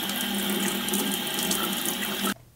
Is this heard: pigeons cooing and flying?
no